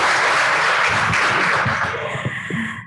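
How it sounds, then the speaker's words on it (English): An audience at an anniversary breakfast gives sustained, dense applause that fills the room and then fades near the end. "Let's just give a round of applause"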